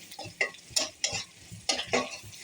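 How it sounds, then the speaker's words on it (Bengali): Onions fry in a pan with a soft sizzle, while a spoon scrapes and stirs in several quiet, irregular strokes. "পেঁয়াজটা ভালোভাবে ভেজে"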